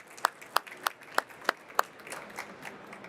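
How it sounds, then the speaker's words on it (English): Brief, faint applause from an audience at a business talk, a handful of distinct claps followed by a thinning patter that quickly dies away. "let's give Mukul a round of applause"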